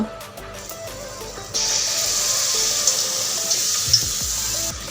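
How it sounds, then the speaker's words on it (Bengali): Mango malpua pitha batter frying in a pan of hot oil, a steady close sizzle that swells louder midway as more batter drops in, with a few light pops and clinks over the bubbling. "তেলটা গরম হয়ে গেছে। এখন আমি এক এক করে পিঠাগুলো দিয়ে দিব"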